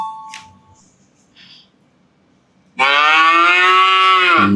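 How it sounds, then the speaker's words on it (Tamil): A cow gives one long, loud, resonant moo that starts abruptly after a few quiet seconds of faint background sounds and holds steady close by before cutting off. "மாடு."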